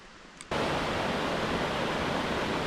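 Water from an alpine lake rushing down a mountain stream, a loud, steady broadband roar that switches on abruptly and continues unbroken, close by with no voices.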